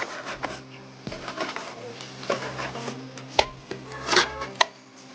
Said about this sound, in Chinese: 洗净的牛肉切成块儿